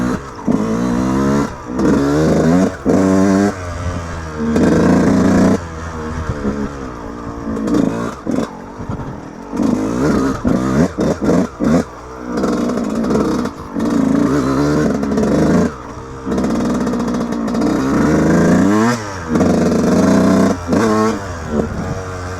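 Yamaha YZ125 two-stroke dirt bike ridden through mud on a trail, close and loud, with repeated rising revs and throttle blips broken by brief chops and clattering dips.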